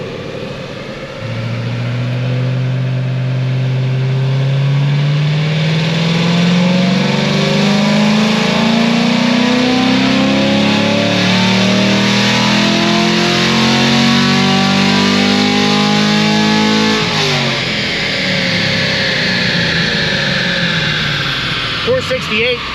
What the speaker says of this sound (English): Just working on my race car real quick.